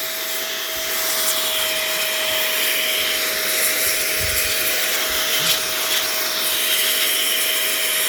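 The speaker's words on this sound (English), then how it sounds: "It's just a machine that has air and it's cold air." A cold-air blower machine drying a wet belt, a loud, steady whooshing roar with a constant electric whine throughout, joined by faint rubbing and brief low thumps, with no talking.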